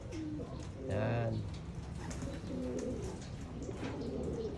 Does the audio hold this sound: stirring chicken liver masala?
no